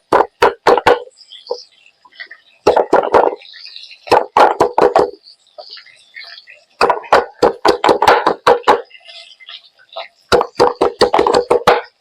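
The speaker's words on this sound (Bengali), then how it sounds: "এই রসুন কটা একটু থেতো করে নিই।" Garlic cloves crushed by hand while fish fries for a jungle cane-shoot dish, heard as close, sharp rhythmic pounding strikes in quick bursts separated by short pauses.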